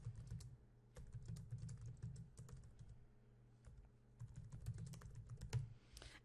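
Soft, quiet typing on a computer keyboard as a topic title is entered, irregular bursts of key taps with brief pauses between, no speech.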